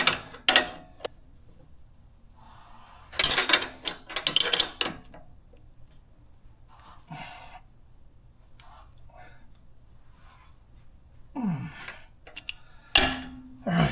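A ratchet tightens bolts on a broken steering bracket, with short bursts of clicking and mechanical rattling separated by quieter pauses, all fairly close.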